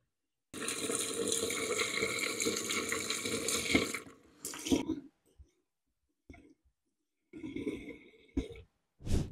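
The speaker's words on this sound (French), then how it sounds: "voilà ce que ça donne au niveau du rendu de l'eau qui coule uniquement avec le micro" Tap water runs very close to a pair of microphones that almost touch the stream, a loud steady splashing rush that stops abruptly, followed by short bursts of splashing and small clicks.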